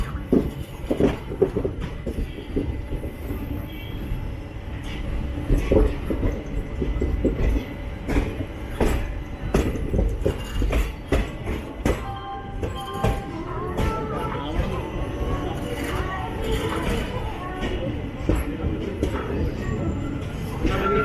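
A train in motion at Kozhikode railway station, a long rumbling roll with repeated clattering wheel clicks and metallic knocks, loud and close, with faint voices in the background.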